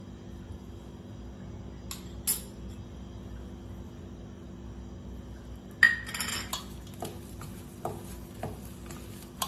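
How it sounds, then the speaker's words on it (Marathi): A spoon works butter into grated potatoes in a bowl for crispy potato scones, giving sparse, faint clinks and light scrapes against the bowl with nobody talking. "हे बटर ह्या बटाट्यामध्ये चांगलं मिक्स करून घ्यायचं"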